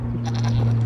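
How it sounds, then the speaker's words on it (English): Sheep bleating close by, a short wavering bleat repeated over a steady low mechanical hum in a home setting in Ethiopia. "the sheep is what you're hearing."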